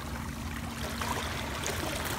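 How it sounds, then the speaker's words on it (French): Small waves lap steadily at a lake shore in Haute-Saône, a continuous close wash of water with a low rumbling undertone and no voices. "Donc, il y a des vagues"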